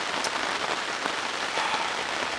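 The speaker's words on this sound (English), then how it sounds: "How soothing that gentle patter of raindrops landing on the plastic sheet." Rain patters steadily on a plastic tarp sheet over a woodland solo camp, a dense, even hiss of drops with scattered sharper taps, continuous and close throughout with no voices.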